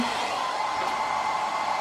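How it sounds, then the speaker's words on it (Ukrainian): Hair dryer blowing on its first, lowest speed while powered by an EcoFlow portable charging station, giving a steady, close, continuous whoosh with a motor whine and no talk. "я включаю фен на першій швидкості"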